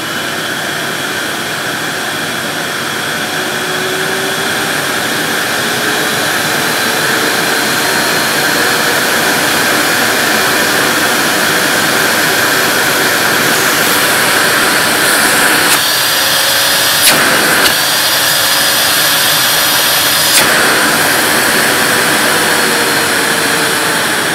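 A Hoover TW1650 Sprint bagged cylinder vacuum cleaner runs with a loud, steady motor whine and airflow roar that climbs in pitch as the power is turned up, with a few brief clicks partway through.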